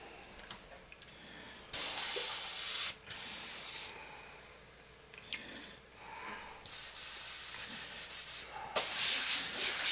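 An airbrush sprays paint in several long, steady bursts of bright hiss, separated by brief pauses, while lightning, smoke and fire background elements are painted.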